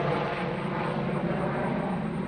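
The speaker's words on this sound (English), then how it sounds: "Talk about a low helicopter." Helicopter flying low overhead above a building site, a steady broadband rotor and engine roar that stays loud and even throughout with no talk.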